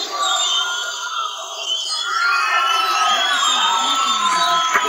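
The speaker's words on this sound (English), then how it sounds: "Good crowd." Crowd cheering and shouting in a video game, a dense, steady roar of many voices with excited whoops and screams rising in the second half, loud and continuous throughout.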